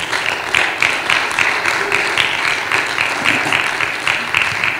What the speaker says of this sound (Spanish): Un fuerte aplauso, amados hermanos,